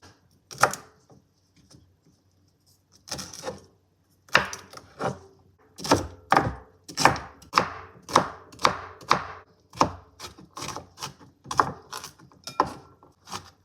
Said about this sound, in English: We're going to start by chopping up this celery